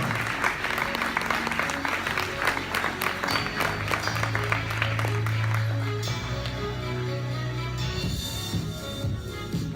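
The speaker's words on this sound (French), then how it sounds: "Je voudrais qu'on l'applaudisse bien fort." Audience at a short-film screening applauds director Guillaume after his film Un tour de cheville, sustained loud clapping that thins out toward the end while a low hum and scattered voices linger.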